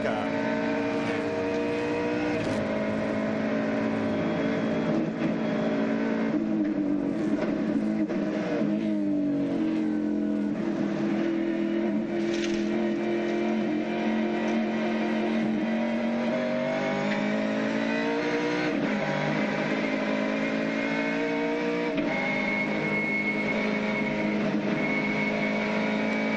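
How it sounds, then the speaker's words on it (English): Shell-backed Ford V8 Supercar heard from onboard at a 1998 Lakeside race, a loud continuous engine roar rising and falling through gear changes and revs with no talk over it. "Let's have a listen to the Shell car."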